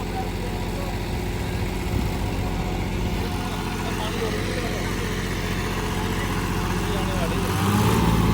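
A John Deere tractor engine, a 5405 or 5210, runs steadily at close range with a dense low rumble that swells slightly near the end, while someone talks over it.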